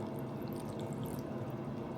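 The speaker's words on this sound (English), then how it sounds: "Just to keep it juicy, I'm gonna add a little bit of water to this as well." A little water poured into minced meat in an oven dish makes a short, steady trickle and splash, close to the microphone and heard alone.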